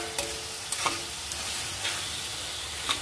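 Ginger, garlic and green chili paste sautés in a pan with a soft, steady sizzle, broken by a few brief scraping stirs of a spoon; quiet and close, with no talking.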